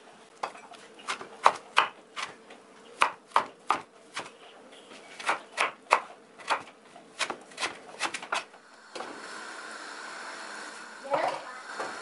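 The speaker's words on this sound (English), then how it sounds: "I'm going to start slicing or shredding my frozen spinach." Frozen spinach is sliced or shredded in a kitchen, giving a series of sharp, close cutting strokes in irregular bursts, followed by a softer steady scraping sound near the end.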